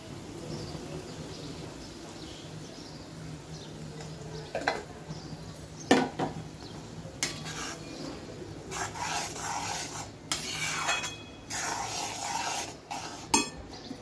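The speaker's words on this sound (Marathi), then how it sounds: "गॅसची फ्लेम आपण कमी करू आणि जे तयार केलेलं मिश्रण आहे ते आपण त्यात टाकायचंय." Kitchen cooking as a prepared mixture is poured into a pan over a lowered gas flame: steady soft sizzle and frying hiss with scattered clinks and scrapes of a utensil against the pot, no talking.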